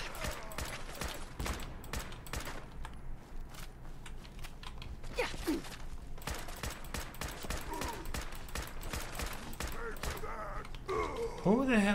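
Rapid bursts of gunfire ring out while an enemy is shot in Fallout 4 on survival difficulty, a clattering string of shots under a person talking throughout, with a few sharper hits near the end.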